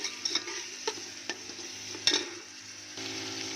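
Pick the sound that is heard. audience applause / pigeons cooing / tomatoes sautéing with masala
tomatoes sautéing with masala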